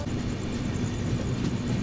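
A passing train on a parallel track beside the Kushinagar Express near Aishbagh, heard from on board as a steady, loud rumble and roar of rail noise.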